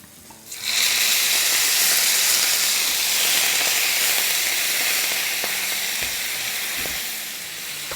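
Tomatoes, crushed garlic and curry leaves hit hot oil in a pan with a sudden loud sizzle, then keep up a steady, close frying hiss that eases slightly over several seconds.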